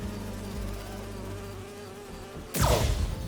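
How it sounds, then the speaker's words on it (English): Holographic bee wolves buzzing around a hive in the video game Spider-Man 2, a close, sustained insect drone that ends in a sudden loud burst of noise. "Do you see those little holographic bee wolves?"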